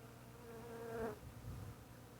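Honeybees buzz faintly at the entrance of a newly started nucleus hive, a soft continuous drone with one brief louder swell as a bee passes close.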